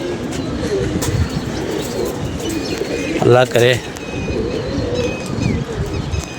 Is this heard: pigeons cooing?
yes